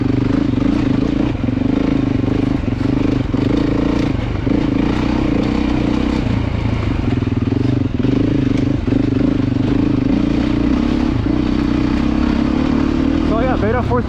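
A Beta 430 dirt bike engine runs steadily and close by, a constant low droning hum with light clatter and faint rev changes throughout.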